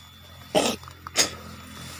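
Two short, harsh coughs close up, a brief gap between them, over faint background hiss.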